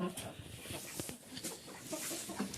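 Chickens, including a rooster and bantam hens, cluck intermittently amid background noise, soft scattered calls rising and falling over a couple of seconds.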